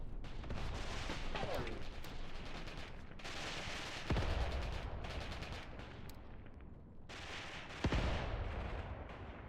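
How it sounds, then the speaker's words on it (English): Mortar fire in the Mius Front war game, a steady rumble of distant battle with two sharp heavy impacts standing out, a voice faintly underneath. "Mortar fire is coming in on these Soviets over here"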